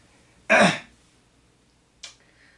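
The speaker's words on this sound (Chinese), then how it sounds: "咳嗽" One sharp, loud cough up close, followed a moment later by a shorter, quieter second cough in an otherwise quiet room.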